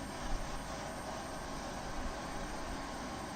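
Simulated F-16 jet engine in Falcon BMS spooling up during start, a steady broadband roar and whine holding level throughout without voices.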